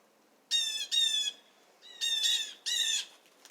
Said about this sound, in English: There's my blue jay. They come down in a flock with my squirrel.